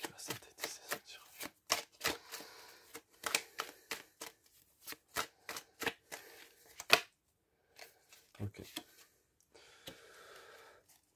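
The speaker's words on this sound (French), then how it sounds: "Je vais tirer une carte qui va synthétiser ce tirage" Oracle cards shuffled by hand during a Virgo reading, a long run of crisp riffling slaps and flicks, close and fairly quiet, slowing to a few softer rustles at the end.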